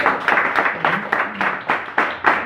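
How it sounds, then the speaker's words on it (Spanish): Church congregation applauding Christ Jesus, a loud, close run of rhythmic clapping in regular bursts roughly twice a second, with a faint voice briefly beneath it. "Denle un fuerte aplauso a Cristo Jesús"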